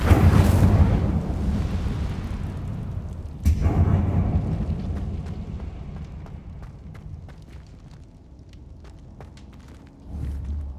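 Incendio fire spell cast in the Hogwarts Legacy video game: a loud, rumbling whoosh-burst, a second blast a few seconds later, then fading crackles and light ticking as a low rumble swells again near the end, with no talk.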